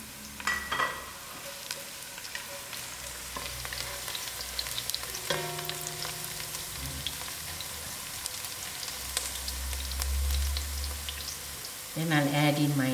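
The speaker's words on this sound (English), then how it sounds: "As my onions are browning up, I put in my cinnamon stick, my bay leaf, the saunf, the jeera, and the mustard seed to fry with" Onions brown in hot oil with a cinnamon stick, bay leaf, saunf, jeera and mustard seed, giving a steady close sizzle and crackle with occasional stirring scrapes. A brief voice or clatter comes near the end.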